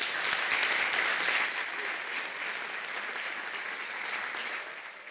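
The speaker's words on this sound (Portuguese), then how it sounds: "eu peço uma salva de palmas para quem nos está a assistir do outro lado" Applause from a hearing-loss awareness talk audience for remote viewers, a steady dense clapping that stays loud for the full stretch and eases slightly toward the end.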